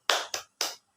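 A teacher leads the "tepuk semangat" ice-breaker clap for a classroom, three crisp, close hand claps in a quick uneven rhythm, the first two close together, then a pause before the third and the start of a fourth.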